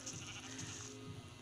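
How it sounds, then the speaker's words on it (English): Sheep bleat faintly in old Minecraft, a couple of soft wavering baa calls over a muffled, steady game background, with no voices. "Let's get some wool from the sheep."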